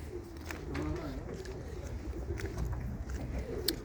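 Pigeons kept by a fancier in Luton coo softly and continuously beneath steady talk, with a low ambient murmur throughout.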